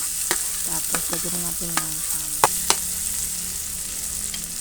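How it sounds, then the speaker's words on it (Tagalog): Butter, garlic and onion are sautéed in a pan with a steady sizzle. Sharp stirring clicks and scrapes break through at irregular moments, and a voice speaks briefly over the cooking. "maglagay na tayo ng butter, garlic, and onion. Gisa na natin sila."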